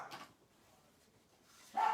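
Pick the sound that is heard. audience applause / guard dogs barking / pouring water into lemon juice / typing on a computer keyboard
guard dogs barking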